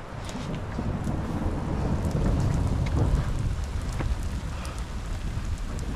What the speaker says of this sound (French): c'est orage, c'est grosse tempête.